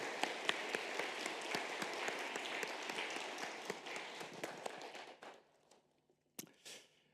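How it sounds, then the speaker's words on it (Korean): A church congregation at a Sunday worship service claps in praise. Moderate applause with sharp individual claps fades out after about five seconds, then a few scattered claps and small sounds follow in near quiet. "하나님께 영광의 박수 한번 드리게"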